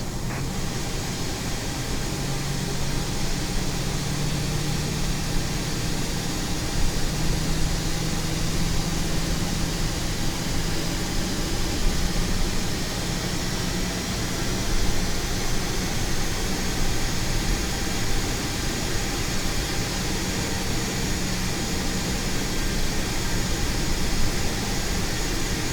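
Airbus jet engines spool up in Microsoft Flight Simulator 2020, a steady broadband roar with a faint rising whine holding constant throughout, with no voices.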